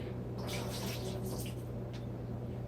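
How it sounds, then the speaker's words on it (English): Hands rinsed under a running kitchen tap while making taco pizza, a soft steady stream of water with splashing that swells and fades over a few seconds, fairly faint. "Let me rinse my hand real quick."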